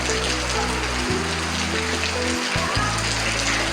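Steady, dense rain pours down close by, a constant hiss of drops on surfaces with a low hum underneath.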